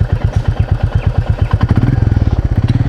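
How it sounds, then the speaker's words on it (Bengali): A Royal Enfield Meteor 350 single-cylinder engine fires up and settles into a close, loud, rhythmic thumping idle that quickens slightly as it catches. "আরেকবার প্রেস করলে ইঞ্জিন স্টার্ট"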